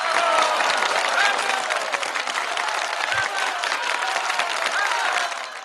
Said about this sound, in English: Do you have some hand clap for Ron?